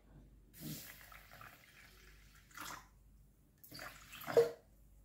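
Water is poured into a Thermomix bowl to cook semolina, coming in a few short splashing bursts with pauses between them, the last burst the loudest, heard close up in a quiet kitchen.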